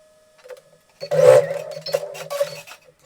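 A sewing machine stitches patchwork pieces in short bursts, with a steady mechanical whir that starts and stops several times, close and fairly quiet.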